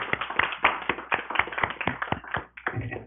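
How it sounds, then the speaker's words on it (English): Clapping for candidates at a chamber of commerce candidates forum, sharp close individual claps in an uneven rhythm from a small group, briefly pausing near the end before resuming. "let's give these candidates a round of applause as well."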